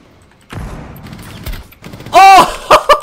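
Short bursts of P90 submachine gun fire in a video game: a few scattered shots early on, then a loud rapid burst near the end followed by two more sharp reports.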